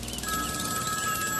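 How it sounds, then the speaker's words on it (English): Telephone ringing with a steady electronic trill, heard briefly and fairly faint against a soft background hiss, with no one speaking. "the mind-shattering sound of the ringing phone"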